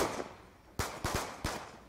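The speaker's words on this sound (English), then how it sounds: "Fire one bullet." Gunfire in Call of Duty: Black Ops 2, a custom lobby match, heard as three or four sharp, loud reports spaced unevenly across a couple of seconds, each followed by a short decaying tail.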